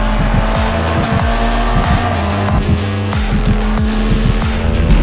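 A Toyota GT86 roars around the track in the iRacing sim, loud engine revving up and down through shifts with tire squeal and other cars close by, no talk.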